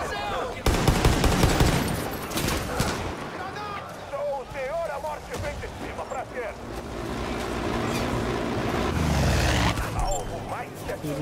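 Gunfire in Far Cry 5 at a water treatment plant, repeated sharp shots and bursts over a busy game soundscape, with someone talking excitedly throughout.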